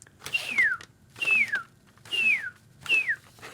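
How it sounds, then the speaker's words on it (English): A groundhog gives four loud, clear whistling alarm calls, each a sharp descending note spaced evenly about a second apart, close by with nothing else over them. "Hey, my little whistle pig is whistling."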